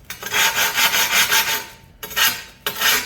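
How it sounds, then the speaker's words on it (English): A sanding stone rasps along the rough edge of a porcelain tile in steady back-and-forth strokes, loud and close, with a brief pause before two more short bursts of scraping. "now you come back with the sanding tool,"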